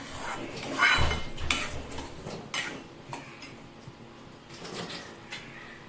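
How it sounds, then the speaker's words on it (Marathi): Semolina roasting in ghee in a pan for a sweet prasad sheera, with a spoon scraping and clinking against the metal in irregular strokes, near and moderately loud, no voices. "हा भाजून घेतलेला रवा मी तुपात टाकलाय आणि पुन्हा थोडा भाजून घेते"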